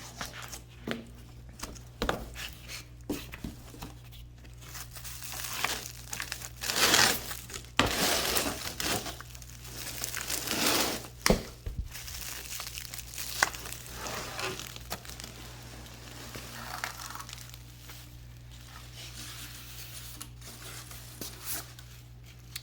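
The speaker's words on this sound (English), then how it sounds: "Bare root wrapped in a bunch of plastic. So let's pull this out and see what it is." Plastic wrapping being pulled off a bare-root mango tree, with soft crinkling, rustling and tearing in irregular bursts, fairly close but quiet, over a steady low hum.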